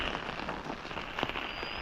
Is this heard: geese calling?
no